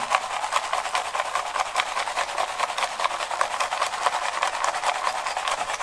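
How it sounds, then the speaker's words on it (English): A gold pan holding material is shaken back and forth, a continuous gritty rasping and rubbing with a fast steady rhythm, close and fairly loud, no talk. "I'm just doing a little back and forth motion with the pan."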